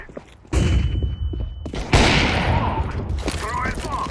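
A flashbang grenade is thrown in Counter-Strike 2, with loud game combat around it: a sharp burst, dense gunfire-like rattle and thumps, then a second heavy broadband blast that rings on. No clear talk.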